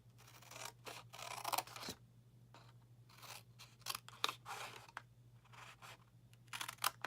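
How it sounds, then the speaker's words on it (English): Scissors snip through paper along a score line while a papercraft treat holder is made, a steady series of close, crisp cutting strokes over a low background hum. "So let's just cut up this one, and let's cut up this one."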